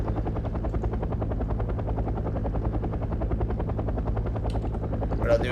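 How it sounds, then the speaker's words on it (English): Attack helicopter in the Wargame AirLand Battle video game, a steady rotor chop and turbine drone held at constant level throughout, with a brief higher burst near the end. "That's actually an attack chopper. That's a threat."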